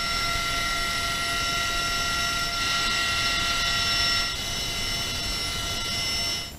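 A Marine heavy-lift helicopter from Squadron 464 hauls a 12,000-pound buoy at sea, its steady, loud rotor and turbine roar holding constant with a high whine, fading slightly near the end.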